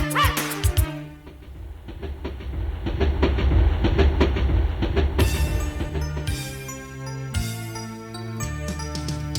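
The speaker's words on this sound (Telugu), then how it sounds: "చుక్ చుక్ బండి వస్తోంది, పక్కకి పక్కకి జరగండి" A steam train's chugging clickety-clack rhythm drives a Telugu film song, with steady rail-like beats and jingling tones running under the music.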